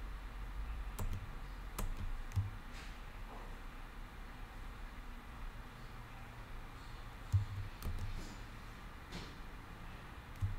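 Someone types code on a computer keyboard, a quiet, sparse scatter of key clicks and taps at close range over low background hiss, with a few slightly louder keystrokes.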